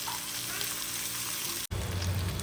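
Pepper and garlic frying in a pan at home, giving a steady close sizzle and crackle that breaks for an instant before a louder, denser sizzle resumes.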